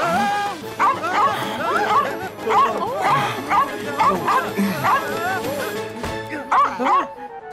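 Cartoon dog barking in short repeated yips and bow-wows throughout, fairly loud and close, with background music underneath.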